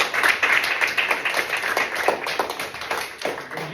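An audience claps together in a steady, dense burst of applause that carries through the whole stretch, moderately loud and close, with no talk over it.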